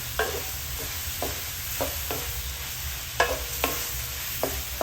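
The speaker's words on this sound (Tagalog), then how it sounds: "Tapos ilagay na natin yung ating mushroom." Mushrooms frying in a pan with kangkong for adobo, a steady close sizzle punctuated by repeated short clicks and scrapes of stirring, no speech.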